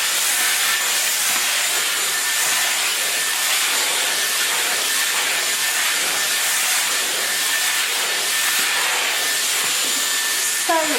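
A Dyson Airwrap hair styler blowing air through hair, a steady loud broadband whoosh of airflow that continues unbroken throughout.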